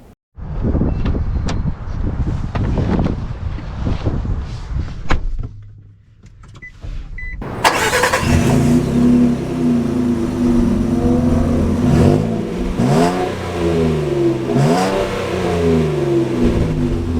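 A 2025 Nissan Frontier PRO-4X pickup truck engine cranks into life after a brief rustling lead-in, then settles into a steady, close, loud idle and driving hum with rising and falling revs.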